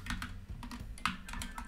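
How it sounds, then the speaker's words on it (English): Keys clatter on a USB keyboard as a Wi-Fi password is typed during Raspberry Pi RetroPie setup, a quick uneven run of close, crisp clicks with short pauses between bursts, no talking. "I can type in my password."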